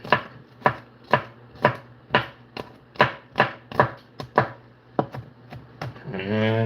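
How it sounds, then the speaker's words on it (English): A knife chops garlic on a cutting board in a kitchen, about a dozen sharp, evenly spaced knocks close by, followed by a brief rising rush of noise at the end. "So cut up our garlic."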